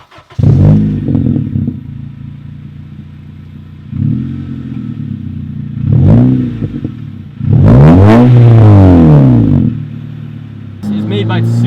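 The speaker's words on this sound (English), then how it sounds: "this car actually has a catback exhaust" Honda Civic Si with a 2.5 inch catback exhaust, its engine revving up and dropping back in several rising and falling pulls, loud and close, with a heavy surge near the end and voices talking over it.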